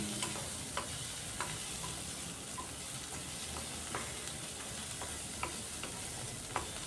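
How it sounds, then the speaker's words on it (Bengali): Chopped tomato frying with chicken mince in a pan produces a steady, quiet sizzle, punctuated every second or so by light taps of a stirring utensil against the pan. "টমেটোটা দিয়েও কিছুক্ষণ আমি ভাজা ভাজা করে নিচ্ছি।"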